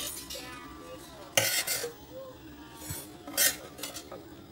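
Cabbage with pork and shrimp is stir-fried in a pan, with a metal utensil scraping and clinking against the pan in bursts over a faint background, close up and without talking.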